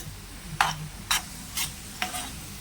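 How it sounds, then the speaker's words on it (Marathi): Potatoes frying in oil, with a low sizzle underneath and four sharp scraping stirs of a spoon in the pan at roughly even intervals. "हा बटाटा आहे ना आपल्याला चांगला असा तेलावर तळून घ्यायचा आहे"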